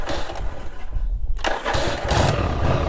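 A Yamaha Virago 1100cc motorcycle engine turns over and fires on a cold start, a loud rough engine roar that drops briefly and then catches again, running steadily up close.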